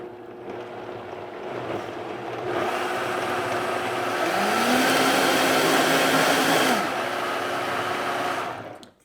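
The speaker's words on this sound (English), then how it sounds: "put it on the blender and puree it on up" A kitchen blender purees a protein noodle mixture, the motor whirring up loud and steady for several seconds, rising in pitch partway through before spinning down.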